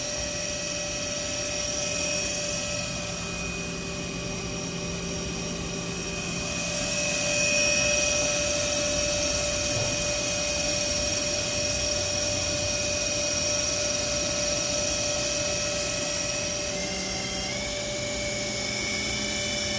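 Spindle of a Milltronics RW 20 CNC machine running at around 2500 RPM, a steady high whine with several sustained tones and a broad hiss that swells briefly midway and shifts pitch slightly near the end.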